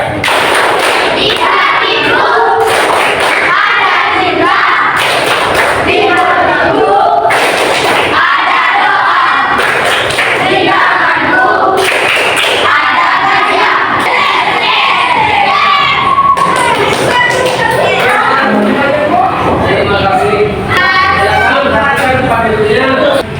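Classroom of children shouting and clapping a rhythmic 'tepuk sukses' cheer in unison, loud and continuous with sharp repeated claps and thumps throughout, voices overlapping in a lively group chant.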